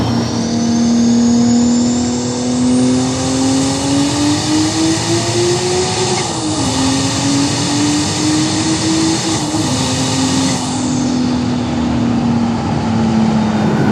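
A loud, tuned car engine drones steadily near the listener, its pitch rising and dipping as it revs up and eases off, with pops on deceleration and no talking.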